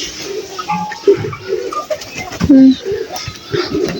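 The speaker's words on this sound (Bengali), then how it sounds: "এখানে আরো অনেক কবুতর আছে বোম্বাই কবুতর আছে সিরাজি আছে" Pigeons in a coop, including Bombay and Sirazi breeds, cooing in short repeated calls at close range, with faint voices and household sounds mixed in.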